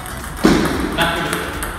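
A table tennis ball struck on a knuckle or backspin serve, one sharp ping of the bat rising over steady background noise, followed by a second fainter contact.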